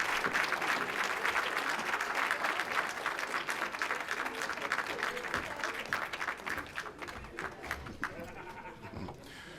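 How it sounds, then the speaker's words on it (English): An audience at a celebration ceremony claps steadily for several seconds after a speech, dense applause that gradually thins toward the end, with scattered cheers mixed in. "Let's give her another round of applause for that."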